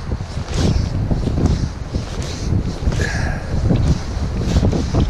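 Strong wind blows along the sea coast of southern Sweden during sea trout fishing, a loud, gusty roar buffeting the microphone, with low rumbling and surf-like swells that rise and fall throughout and no voices.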